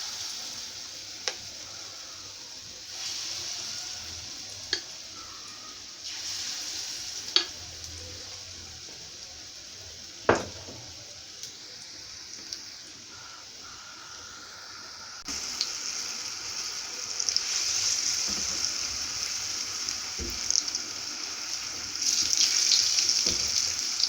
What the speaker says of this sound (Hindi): अब मैं आपको भल्ले बनाना फ्राई करना सिखाती हूँ कि किस तरह फ्राई करना है।